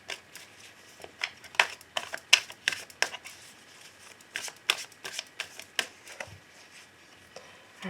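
Tarot cards are shuffled and cut by hand, a close, crisp series of irregular riffling clicks and slaps in quick bursts with brief pauses and no talking.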